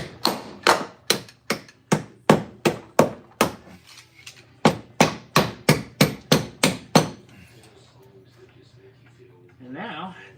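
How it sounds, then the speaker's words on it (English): Sharp hammer blows ring out in two quick runs of about ten strikes each, close and loud, while an inner fender is fitted during a 40-inch tire install on a Ford Excursion; a brief shuffle follows the strikes. "Use this hammer."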